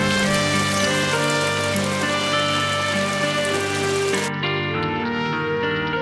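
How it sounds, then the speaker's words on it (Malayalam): Sudden heavy rain pours down in a short-film scene: a dense, loud, steady hiss of drops striking surfaces, layered with sustained tonal music, the brightest upper wash cutting off abruptly near the end while the rain continues. "പെട്ടെന്നൊരു മഴ പെയ്തു."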